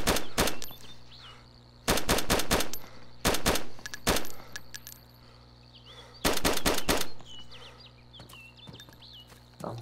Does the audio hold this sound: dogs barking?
no